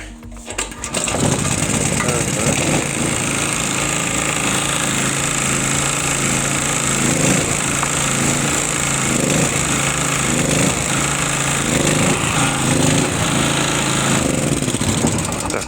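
Small petrol generator engine started and running roughly with misfires, a loud, continuous mechanical drone with an uneven, sputtering pulse throughout, close by.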